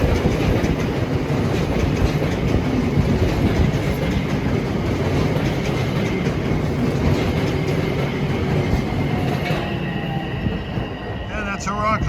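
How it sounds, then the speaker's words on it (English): A Long Island Rail Road Ronkonkoma-to-Grand Central train arrives on the Main Line with a loud, continuous rumble of wheels on rails, steady throughout and easing slightly near the end. "that's a Ronkonkoma Grand Central train arriving at 2:09"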